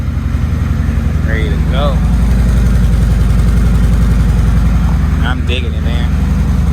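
A motorcycle engine idling steadily just after its first start-up, a constant low rumbling putter close by, with someone talking over it.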